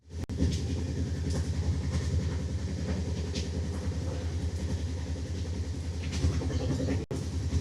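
Padatik Express running steadily on rails at speed, a continuous dense rumble of wheels and carriage noise with rhythmic rail clatter throughout, close and loud with no talk.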